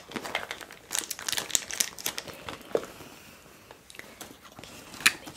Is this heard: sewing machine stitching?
no